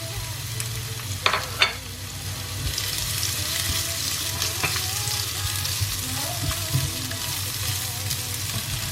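Onion hits hot olive oil in a frying pan for salmon carbonara: two quick clicks, then a strong, close sizzle bursts up and holds steady, with no talking.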